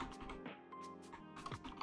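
Rapid, light key clicks from typing on a computer keyboard, a short quiet burst of irregular taps heard close up with no talk.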